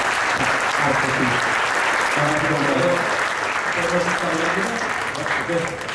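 An audience applauds a speaker at a one-day class, steady dense clapping that holds strong for the whole stretch and fades slightly at the end, with a voice faintly underneath.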